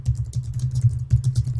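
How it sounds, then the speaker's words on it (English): Rapid typing on a computer keyboard during an art stream, a steady run of close, soft clicks and taps with a brief pause partway through. "Typing in things, making noise."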